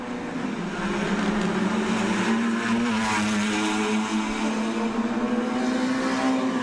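A race car engine drones steadily on track at the Bangsaen Grand Prix street circuit in Thailand, a loud, sustained whine that holds its pitch with a slight rise, dominating throughout with no talking.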